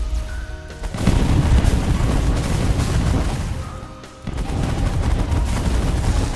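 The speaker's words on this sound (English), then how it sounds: "Too many bullets flying, making it impossible for us to actually land a hit on anyone." Dense gunfire from space combat in the game The Last Federation: a loud, continuous barrage of rapid shots and booms that briefly thins near the middle before surging again, with no voices.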